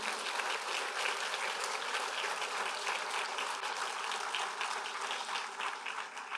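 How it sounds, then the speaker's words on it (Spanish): A church congregation gives a sustained round of applause to the Lord during a Spanish-language service, a dense, even clatter of many hands that holds steady throughout at moderate distance with no speech. "Denle un fuerte aplauso al Señor."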